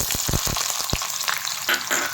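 Onions and a bay leaf fry in a hot wok for a Bengali country chicken curry, giving a steady loud sizzle with a few stirring scrapes near the start.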